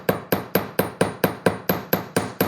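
Metal hammer strikes flattening wire for wire-wrapped freestyle earrings, ten sharp evenly spaced taps about a quarter second apart, close and crisp with no talking.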